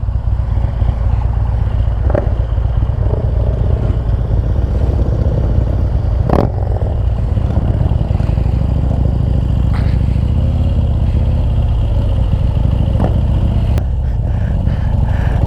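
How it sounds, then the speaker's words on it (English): A Harley-Davidson Street Glide with a 124 engine rides on a city street, its steady loud engine drone and wind rumble continuous throughout, with a few faint clanks. "Adventure riding on a street glide."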